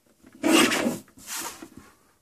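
A paper trimmer slices scrapbook paper in two quick rasping strokes, the first louder and longer, the second softer and shorter, heard close up with no one talking.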